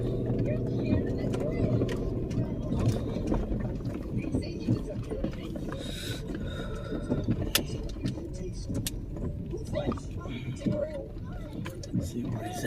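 Continuous low rumble and crunching tire noise from a vehicle driving a wet gravel mountain road over Gobey Mountain, steady and fairly close, with scattered clicks and knocks throughout.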